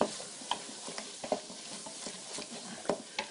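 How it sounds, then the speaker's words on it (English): A spoon stirs smoked paprika and spices into a pot for seafood chowder, giving soft scraping strokes and light ticks against the pot over a faint sizzle, close and fairly quiet. "I'm going to stir that in"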